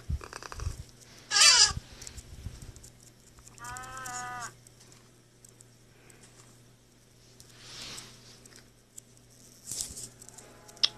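A few short, scattered animal calls from a cat in Minecraft Pocket Edition, with a wavering mew near the middle and softer cries later, sitting over a quiet low background hum and faint clicks.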